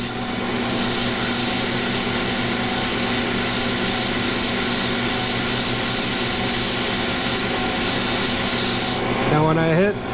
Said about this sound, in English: we're only sanding at 220